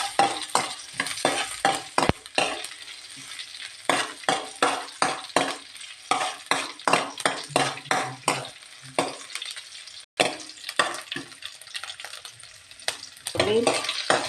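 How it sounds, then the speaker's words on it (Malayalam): Mustard seeds and two dried red chilies frying in coconut oil crackle and sizzle up close, broken by a regular rhythm of spoon strokes stirring the pan, with no voices. "കടുക് വറുക്കാൻ വേണ്ടി ഇച്ചിരി വെളിച്ചെണ്ണ ഇങ്ങോട്ട് ഒഴിക്കുകയാണ്"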